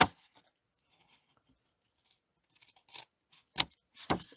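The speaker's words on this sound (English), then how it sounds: "then we can just snip off these edges here" Scissors snip off the paper edges of a handmade gift bag in a few close, crisp cuts spaced out after a quiet stretch.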